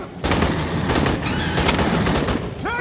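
Burst-fire assault rifle shots from the Aliens: Colonial Marines video game, a dense unbroken stream of rapid gunfire that runs loud and close for nearly three seconds, with a few chirping effects near the end.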